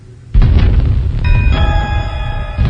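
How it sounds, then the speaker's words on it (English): A sudden booming explosion effect in a Star Trek audiobook bursts in after a quiet moment, followed by a sustained ringing, metallic tone and low rumble. "McCoy turned at the sound of the explosion."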